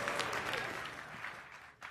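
A crowd applauds at an IPL4 StarCraft 2 tournament match, a dense, steady wash of clapping that holds loud throughout, dips briefly near the end, then surges back.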